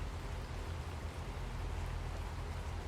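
Steady rain in American Truck Simulator hisses evenly and without a break, a constant wash of soft drops with a low rumble underneath.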